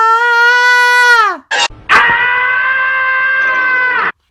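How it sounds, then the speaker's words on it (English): Tom's scream from the Tom and Jerry cartoon: a loud, high, harmonic yowl that slides down in pitch, a short broken gap, then a second long sustained scream held at a steady pitch. "they better have the Tom scream where he goes, ah!"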